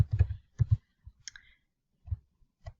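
A computer mouse clicking a few times at close range, with sharp clicks and soft low thumps separated by quiet gaps, and no talk.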